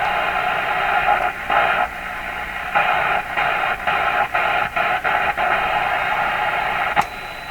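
A Canadian General Electric JK-66 radio plays a steady band of hiss and static with broadband tone, broken by repeated brief dropouts as tuning shifts, then a sharp click near the end; close and moderately loud.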